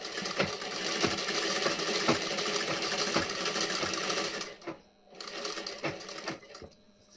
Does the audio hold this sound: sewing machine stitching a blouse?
yes